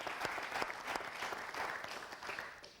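Audience applause for a contestant on a Hindi TV game show, steady dense clapping across the whole stretch with sharper individual claps standing out, fairly distant and slowly tapering at the end.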